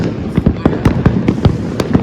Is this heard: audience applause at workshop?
no